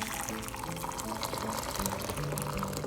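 Hot water pours steadily into a small pot on a kitchen stovetop, a continuous close splashing rush with a faint shifting tone as the pot fills.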